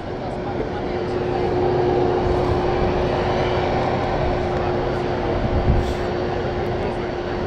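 A Boeing 747 airliner takes off at Guarulhos airport, heard from a spotters' hill as a loud, sustained jet roar with a steady whine, constant from start to finish.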